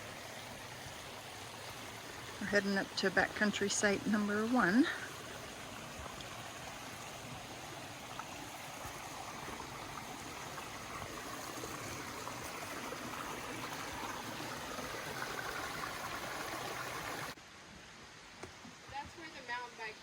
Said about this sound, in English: Walking along the creek again.